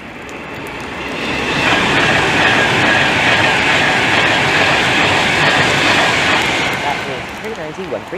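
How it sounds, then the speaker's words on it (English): A Pendolino on the London Euston to Manchester Piccadilly service passes through Milton Keynes Central on the West Coast Main Line: a loud, close roar with rail clatter that swells and then fades over several seconds. "This is the London Euston to Manchester Piccadilly service."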